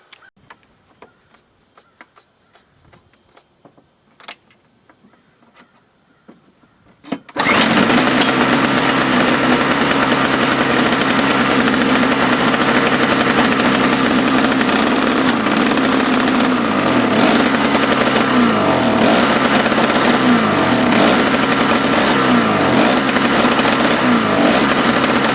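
A green snowblower engine starts after a few quiet seconds of small handling noises, then runs loud and close with a rough, uneven idle that surges and dips repeatedly.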